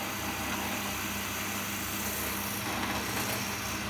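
A pillar drill bores steadily through clamped material resting on a sacrificial bed, giving a constant, loud whirring grind that holds unbroken for the whole stretch.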